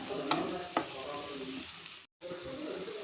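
Ivy gourd pieces sizzle softly in a hot pan while being stirred, a low continuous frying hiss with a couple of sharp scraping clacks, quiet and close, briefly cutting out midway.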